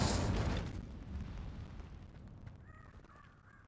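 A fiery Incendio spell cast in Hogwarts Legacy: a loud burst of flame at the start that fades into a crackling, rumbling tail, with faint birdlike calls near the end.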